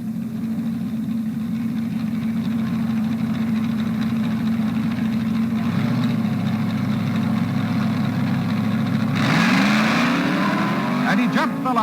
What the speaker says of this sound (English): Jim Wofield, Pontiac, Michigan, in a Ford-powered B-fuel dragster against Dave Strickler, York, Pennsylvania, in a Corvette